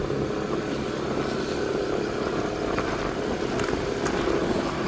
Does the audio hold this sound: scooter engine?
yes